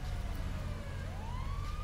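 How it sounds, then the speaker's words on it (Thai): An emergency vehicle siren in the video game FiveM wails with a rising tone for about two seconds, half-buried under a loud, steady low rumble of game engine noise. "เฮ้ยเสียงหวอว่ะ"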